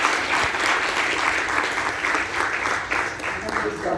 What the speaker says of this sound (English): I request everybody to clap for the parents